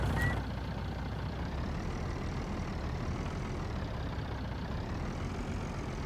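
A truck engine in Farming Simulator 19 drones steadily and evenly, a low continuous rumble held at constant level with a short faint click at the very start.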